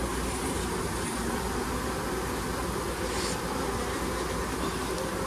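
Honeybees in a calm, productive hive give a dense, steady buzz, loud and continuous throughout, with no voices.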